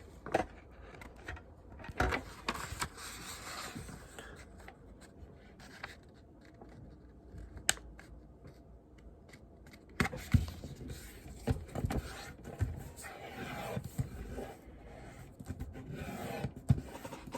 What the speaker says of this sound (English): what I'm going to do first is I'm going to fold this in half, just like that